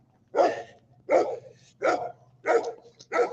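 A dog barks five times in a steady, evenly spaced rhythm, each bark full and moderately loud, with a low hum underneath and no talking.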